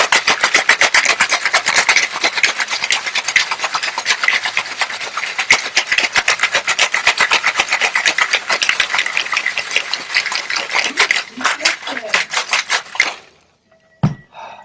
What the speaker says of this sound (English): Two-fisted shaking.